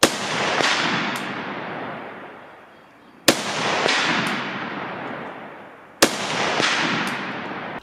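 Three sharp, loud AK-47 rifle shots ring out on a shooting range, spaced roughly three seconds apart, each with a short echoing tail that fades before the next report.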